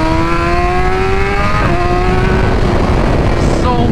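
A 2024 BMW M1000XR sport motorcycle with a BT Moto flash accelerates hard, its engine note climbing through the gears in loud, rising harmonic sweeps with a brief dip at each shift.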